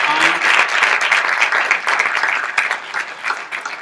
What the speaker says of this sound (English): Folks, having a round of applause for our speakers